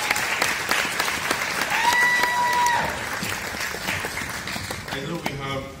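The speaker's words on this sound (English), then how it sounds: "Can we give a round of applause?" Audience applause fills a festival Q&A hall, steady dense clapping throughout, with a faint tonal whistle or cheer midway and the clapping thinning toward the end.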